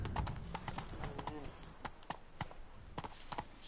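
Hooves of the horse Roach in The Witcher 3, a steady clip-clop on a town street, close and moderately loud, with someone talking over them.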